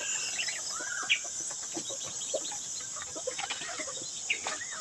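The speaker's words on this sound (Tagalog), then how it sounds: "nandun na yung mga manok dito sa kahoy" Chickens cluck and chatter continuously at moderate distance in a tree, with scattered short calls over a faint outdoor backdrop and no speech.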